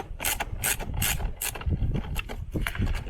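A ratchet wrench undoes the 10mm nut on the negative battery terminal of a Mercedes W205 C-Class, clicking close and loud in rapid bursts of ratcheting strokes.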